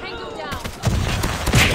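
Gunfire in a shooter video game using a legendary GKS weapon skin, a quick burst of rapid shots after a brief lead-in, loud and close, with someone talking over it.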